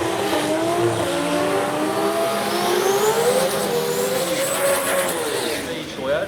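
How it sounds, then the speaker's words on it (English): A loud Toyota 4-litre V8 race car engine revs and screams past during a qualifying run with rising and falling pitch, tires squealing briefly, while a voice talks over the roar. "Toyota V8 motor,"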